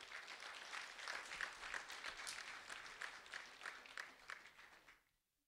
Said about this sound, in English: a round of applause for Lisette Gamero